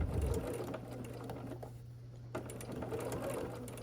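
A sewing machine stitches the center of a quilt block with a steady close mechanical whir and rapid needle chatter, slowing briefly midway before running on.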